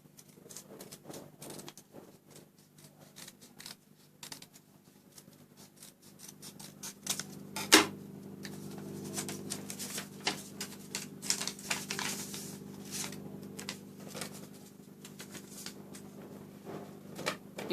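Scissors snip through a cardboard Iron Man helmet piece in a run of small crisp cuts with irregular rhythm, close and quiet, over a low steady hum.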